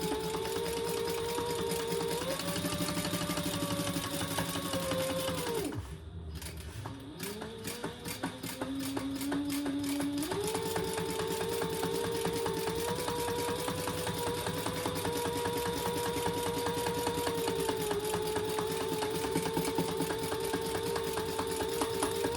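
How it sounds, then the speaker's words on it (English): A sewing machine bastes the front main panel of a fabric bag in place, running as a continuous close whir with a short pause, then resuming steadily. "now we're just gonna baste that in place all the way around"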